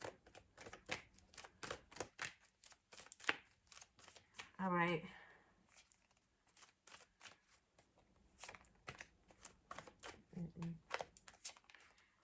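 A fairly new, barely broken-in deck of cards shuffled over and over, bursts of riffling and quick flicks close up, with a brief spoken phrase and short pauses between shuffles.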